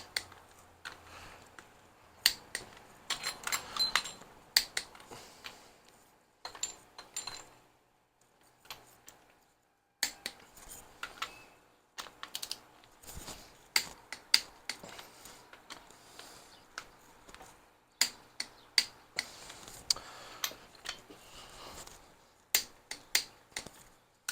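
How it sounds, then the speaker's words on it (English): A torque wrench tightens the cylinder head bolts on a Ford 302 small-block V8 in a crisscross pattern, producing close, sharp clicks in short bursts separated by pauses. "Heads are torqued down."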